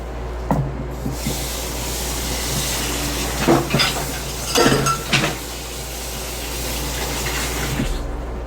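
A spoon scraping and clinking against a dish while brown sugar mixture is spooned over apple dumplings, a few distinct clatters midway over a steady low hum.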